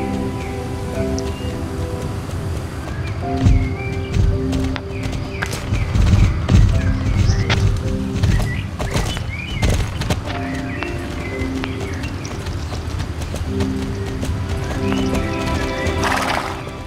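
Rhythmic hoofbeats of a horse galloping in the Star Stable Online video game, steady and close, with a whinny heard and a soft rain-like patter in the background; no talking.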